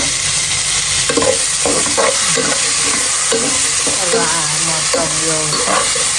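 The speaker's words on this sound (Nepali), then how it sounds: "टमाटर नपकाउन्जेलसम्म सानो लो हिटमा पकाउनु" Chopped tomatoes cook gently in a pan over low heat, with a steady soft sizzle and the scrape of stirring throughout; a voice speaks briefly over the cooking.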